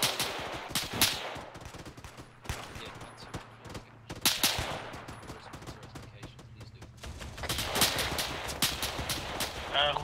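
Bursts of rifle and machine-gun fire in the military shooter ArmA 3, sharp cracks in uneven clusters, some close and loud, others more distant, with intermittent quiet gaps between volleys.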